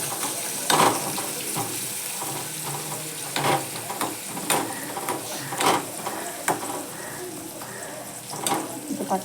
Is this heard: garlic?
yes